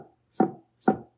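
Two crisp knife strokes through radishes onto a sturdy, flat cutting board while cutting julienne, each a sharp close chop with a short ring, evenly spaced about half a second apart, alone in a quiet kitchen.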